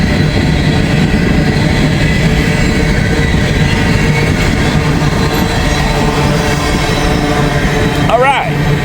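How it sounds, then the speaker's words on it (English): The end of an empty grain train rumbles past close by, a loud, steady roar of rolling freight cars with a brief higher squeal near the end. "Here comes the end of the empty grain train."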